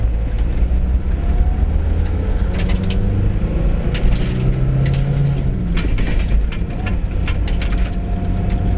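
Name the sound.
1977 Toyota Celica driving up a hill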